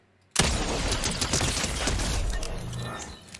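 Fortnite shotgun and pistol fire starts abruptly after a moment of quiet, then becomes a loud, dense run of shots and impact clatter that fades slightly at the end.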